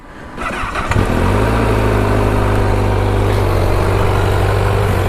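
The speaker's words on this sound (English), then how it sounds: "It's got quite a tame exhaust, maybe, not sure." A Honda CBR1000RR Fireblade SP engine fires up and settles into a steady, low, rumbling idle through a fairly tame exhaust, close by and continuous with no talking.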